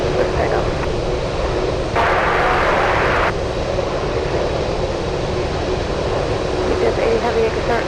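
An Alaska Airlines jet roars on takeoff from an Anchorage airport runway on a windy day, a loud, broad engine rumble that holds steady and swells briefly midway.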